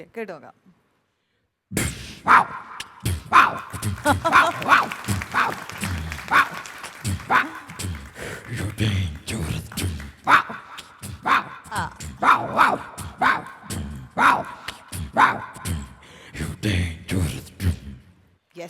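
A voice imitates a dog with a long run of rapid, uneven barks and yelps, fairly loud and close, running continuously for most of the stretch.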